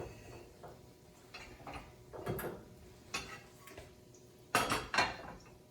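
A metal spatula clinks softly against a plate while a fried egg is flipped onto it. Several light, scattered taps are followed by two sharper, closer clinks near the end.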